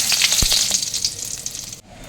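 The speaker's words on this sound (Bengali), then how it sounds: "এবারে জিরে, মেথি আর সামান্য একটু হিং দিয়ে দেবো সোমবারে, আর একটা তেজপাতা।" Cumin, fenugreek, asafoetida and a bay leaf crackle and sizzle in hot oil in a kadai, a steady close hiss with a sharp pop near the start, cutting off abruptly just before the end.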